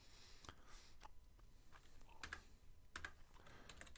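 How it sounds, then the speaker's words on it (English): Quiet, close-up typing on a computer keyboard while filling in a table of contents: scattered light key clicks, with a few sharper clusters of taps, and no voices. "I'm just typing here to make it go a little quicker"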